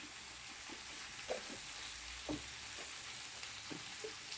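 Mixed vegetables, including spinach, are sautéed together for a Bengali labra curry, making a faint, steady sizzle with occasional soft knocks and scrapes of stirring.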